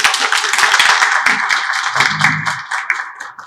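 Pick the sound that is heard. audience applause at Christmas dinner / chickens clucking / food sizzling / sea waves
audience applause at Christmas dinner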